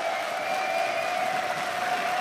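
Spectators at a League of Legends esports match clap and cheer in a dense, steady wash of applause and crowd noise that holds evenly throughout.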